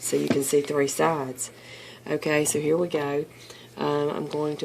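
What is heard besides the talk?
None of the usual background noises is heard.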